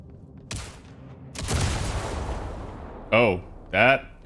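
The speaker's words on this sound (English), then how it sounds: "Oh, that had a huge explosion" A huge explosion in a space video game, a sudden booming blast with a long rumbling tail, followed by a character speaking.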